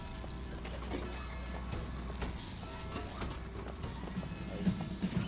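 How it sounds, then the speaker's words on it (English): Animatronic horse in Bioshock Infinite, with steady hoof clip-clops and a couple of short whinnies near the end, heard faintly amid game ambience. "Animatronic horse."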